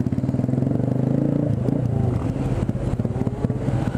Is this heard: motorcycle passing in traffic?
yes